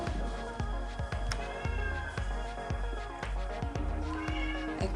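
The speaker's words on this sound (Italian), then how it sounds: "ecco il mio gatto che miagola" A pet cat meows insistently close by, with a long series of loud, drawn-out cries repeating every half second or so over a steady musical background.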